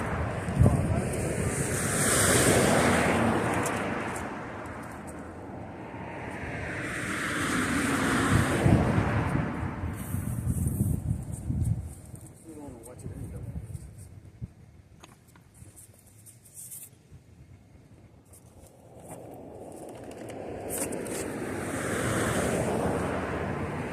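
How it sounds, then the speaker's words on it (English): Strong wind blowing beside a highway, roaring gusts buffeting the microphone in long surges that rise and fall, loud and continuous with no speech. "it's on the side of the highway. The problem with it is it's actually very windy"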